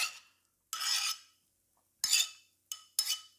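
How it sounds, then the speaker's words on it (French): A spoon gently stirring diced avocado and shrimp in a verrine, four soft scraping strokes separated by quiet pauses, close and alone with no talk. "Tu prends une cuillère, tu mélanges, mais tu fais attention à mélanger gentiment pour pas les écraser"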